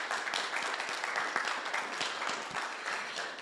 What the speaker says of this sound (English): let's give Councilwoman a round of applause again